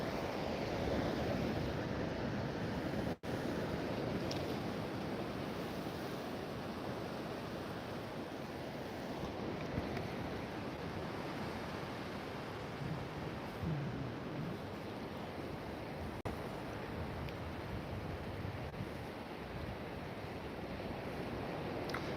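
Ocean waves ripple and lap around a person's feet at the shore, a steady broadband wash of surf with wind rumble that continues unbroken.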